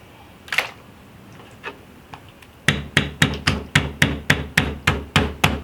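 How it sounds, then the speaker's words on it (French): A rolling pin beats raw fresh octopus on a board in about a dozen loud, evenly spaced thumps that follow a few lighter scattered knocks. "je vais juste le battre un petit peu avec mon rouleau à pâtisserie"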